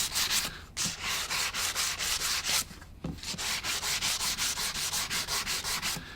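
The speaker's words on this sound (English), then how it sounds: "you can take a 320 grit sandpaper" Wood edges of a clamping caul are hand-sanded with 320 grit sandpaper in quick, rhythmic back-and-forth rasping strokes, loud and close, with two brief pauses and no speech.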